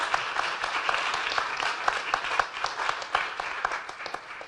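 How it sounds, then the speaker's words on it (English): Applause from a medical association assembly greeting a new family medicine fellow, a moderately loud, steady patter of many hands clapping that continues evenly throughout and fades slightly at the end. "Please, a round of applause for your new fellow"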